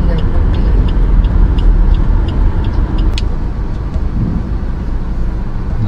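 A large truck passes close on the road, its deep engine rumble and tyre noise loud and steady, then easing slightly as it moves on, with talking in the background.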